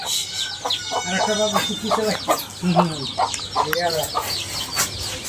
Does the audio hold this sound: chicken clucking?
yes